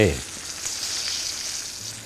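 Steady hiss and crackle of giant catfish frying in hot oil with kaffir lime leaves and chili, continuous and close, with a brief clunk at the start and no talking.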